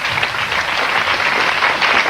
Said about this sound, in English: Applause our musical director